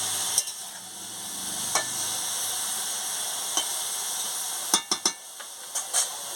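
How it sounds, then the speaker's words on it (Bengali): Cabbage fry being stirred in a pan after a splash of water, with a steady low sizzle and a few sharp scrapes and clinks of the spoon against the pan, close and alone. "জল দিয়ে একটু ভালো করে নাড়িয়ে নিই।"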